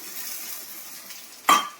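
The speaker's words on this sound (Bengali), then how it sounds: "পেঁয়াজগুলো দিয়ে আমি ভালো করে ভেজে নিই" Onions frying in a pan with a soft steady sizzle, then a single sharp clink of a utensil against the pan as tomatoes go in, close and without talk.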